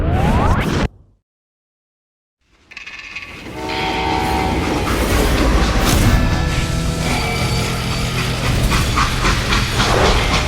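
A train in the western video game Call of Juarez Gunslinger rumbles along the rails after a brief silence, a loud, steady rolling clatter with a horn-like tone and rushing whoosh.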